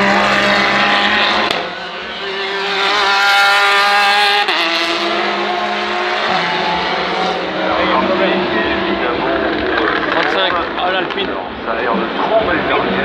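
Race cars at night during the 2018 24 Hours of Le Mans, engines roaring loud and close with rising and falling pitch as they pass, under continuous commentary.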